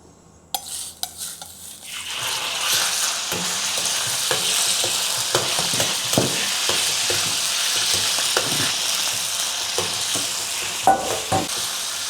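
Beef drops into hot oil in a wok over medium heat, bursting into a loud sustained sizzle after a few initial clanks, with frequent utensil taps and stirring throughout.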